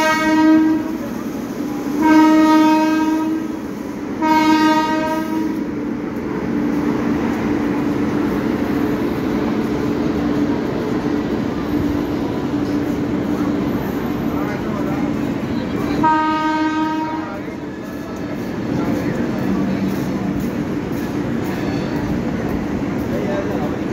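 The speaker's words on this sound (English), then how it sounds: "One more train is arriving." Sikkim Mahananda Express arriving at Ghaziabad station, its loud horn blaring in two long blasts, then a steady rumble of passing coaches and another horn blast later, with voices nearby.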